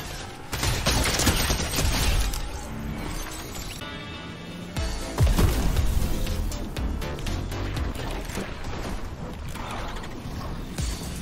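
Rapid gunfire in the video game Fortnite, dense bursts of shots with mechanical clatter running almost continuously and loud.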